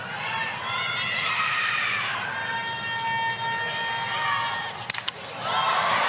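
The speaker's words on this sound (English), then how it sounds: "there was an ooh and ah from the crowd when she swung" A large softball stadium crowd gives a sustained ooh and aah at a batter's swing, a loud swelling murmur that dips, then a sharp crack and renewed crowd noise near the end.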